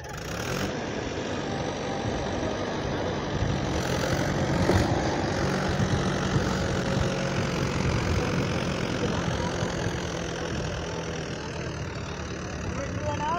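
Mahindra 585 DI XP Plus tractor running under load in third gear with five people aboard, its diesel engine droning loud and steady for the whole stretch, with a slight swell midway.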